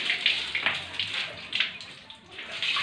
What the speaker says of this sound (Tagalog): So ayan, start na tayo paliliguan ng ating baby Pampam